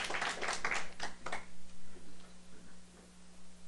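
An audience at the closing ceremony of a self-governance academy claps for a vice chairman: a dense burst of applause, then a few separate, evenly spaced claps that soften and fade over a low steady hum.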